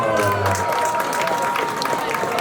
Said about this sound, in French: On applaudit pour le boulot.